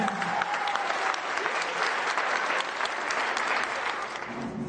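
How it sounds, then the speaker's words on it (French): A resort audience in Bodrum, Turkey, breaks into dense, sustained applause, many hands clapping steadily and evenly for nearly five seconds, with a brief tone at the start. "Allez, messieurs, dames, applaudissements, s'il vous plaît."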